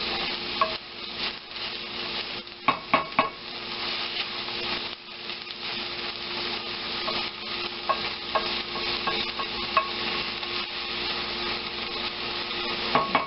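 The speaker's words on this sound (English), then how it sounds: "once the onions are cooked for that 10 minutes, we're going to add the garlic and cook for another minute." Onions and garlic fry in a pan for a Provençal vegetable stew: a steady close sizzle runs throughout, broken by repeated spoon scrapes and taps against the pan, with no talking.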